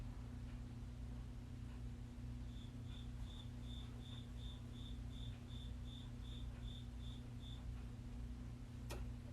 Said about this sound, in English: Can you believe this cricket?